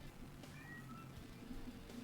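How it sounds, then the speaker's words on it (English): A cat meows faintly in the background, giving a couple of short, thin calls within a quiet, low room hum. "I hear you, kitty."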